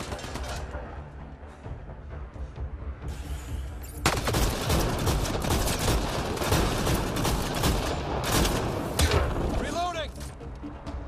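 Indoor firefight in Mass Effect: Andromeda, with rapid automatic fire crackling densely and continuously from about four seconds on, loud and close, over game ambience and faint voices.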